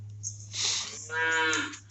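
A cow near a newborn calf moos once, a close, drawn-out bellow lasting over a second with a rising, nasal tone, heard alone over a steady low hum.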